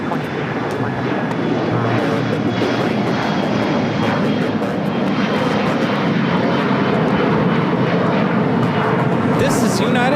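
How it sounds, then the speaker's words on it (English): A United Express Embraer E175 jet takes off from LAX, a steady loud roar of engines sustained throughout, with someone talking over it. "This is United Express 5222 taking off to Phoenix on the E175."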